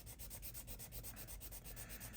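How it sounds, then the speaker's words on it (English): Rapid hand sanding on a plastic Street Hawk light bar, a steady rhythmic rasp of repeated strokes, close and moderately loud with no voices. "We'll get it sanded down, come over to the opposite side."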